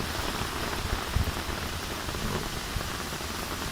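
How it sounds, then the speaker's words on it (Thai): Steady rain patters and drums on a tent while camping at a national park beach campsite, with wind gusts and a few heavier drops, dense and close with no talking. "ตื่นมาพร้อมกับสายฝนแล้วก็สายลมนะครับ"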